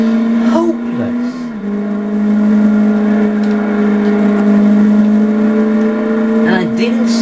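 An Aston Martin V8 Vantage engine holds a strong steady drone while drifting, with a brief dip and pitch change near the start and rising tones at the end, and someone talks over it.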